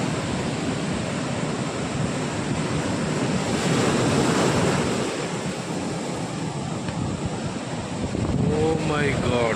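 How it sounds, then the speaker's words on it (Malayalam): Rough sea surf at Azheekode Muzris beach, a loud, constant roar of breaking waves mixed with wind buffeting the microphone, with a brief voice near the end. "ഇപ്പോഴും കടൽ ശാന്തമായിട്ടില്ല എന്നാണ് പറയുന്നത്"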